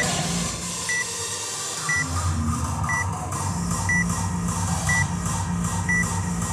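A workout interval timer at a gym fitness throwdown gives short, sharp electronic beeps, one each second and six in all, over steady room noise.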